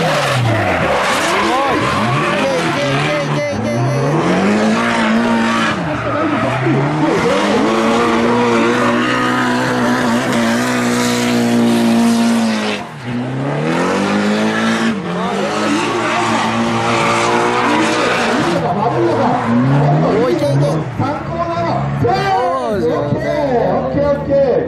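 Race cars round the final corner in the middle-class final of the 2019 Hadashi Tengoku Cup, Round 2, with loud close engines, wailing revs and squealing, skidding tyres. An excited voice commentates over the constant roar.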